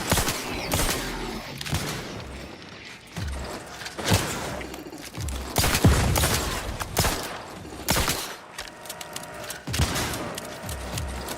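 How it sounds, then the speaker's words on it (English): Enemy gunfire in The Outer Worlds 2, with bursts of shots and impacts popping repeatedly across the scene amid game music and effects, loud and fairly close. "Wait, is there someone behind me trying to shoot me?"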